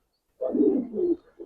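A single Giribaz tournament pigeon coos in a loft, one low throaty rolling call about a second long followed by a short trailing note, close and quiet.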